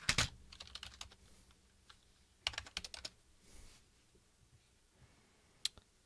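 Bursts of typing on a computer keyboard, with quick clusters of key clicks near the start, a longer run in the middle and a brief flurry near the end, separated by quiet pauses.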